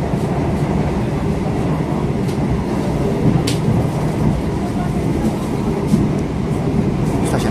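A Progo economy-class passenger train pulls out of a station in Indonesia, a loud continuous rumble of wheels and carriage noise heard from on board, with faint clicks of the rails.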